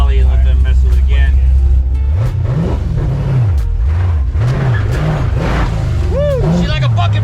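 An LS-swapped International Harvester Travelall wagon engine drones loudly at idle, then revs up and down repeatedly in rising and falling surges before one sharp climb, close and alone with no talk.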